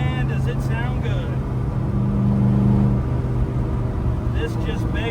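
Factory Five Racing Type 65 sports car's V8 engine rumbling steadily at speed during a ride along, a deep continuous drone with road noise beneath someone talking.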